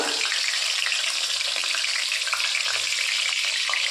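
Pumpkin flower fritters coated in lentil batter fry in a wok of hot oil, giving a steady, close, dense sizzle and crackle that holds evenly from start to finish with no voices.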